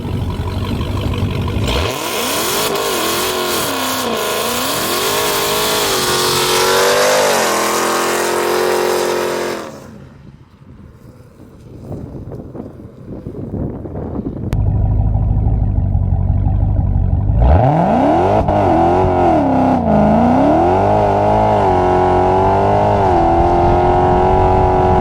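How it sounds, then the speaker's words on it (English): An 800 whp Dodge Challenger Hellcat does a burnout, its loud, roaring engine revving hard for about eight seconds, dropping to a brief rumbling lull, then surging back into a sustained, screaming tire-spinning roar. "She got a really good burnout."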